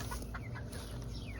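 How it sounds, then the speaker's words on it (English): Backyard chickens clucking softly nearby, a few short chirpy clucks and murmurs over a low, steady background hum. "Hello, chickens."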